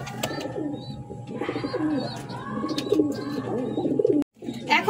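King pigeons cooing in a loft, a series of close, throaty rolling coos repeating irregularly over a constant background murmur, with faint chirps and a brief dropout near the end.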